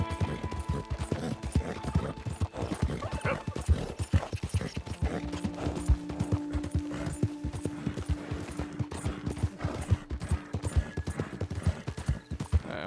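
Horse hooves clip-clop at a steady trot in Red Dead Redemption 2 as the horse tires, heard as a continuous close rhythm of hoofbeats with faint creaks of tack and a low hum of background ambience.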